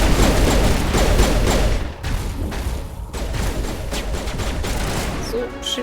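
Rapid gunfire in the Mass Effect Legendary Edition video game, dense repeated shots crackling over a loud game soundscape with a brief dip midway, no speech.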